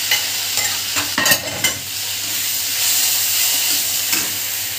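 Onions fry with ginger-garlic paste in a pan for mutton-fat ghugni, giving a constant hissing sizzle broken by a few scraping stirs early on.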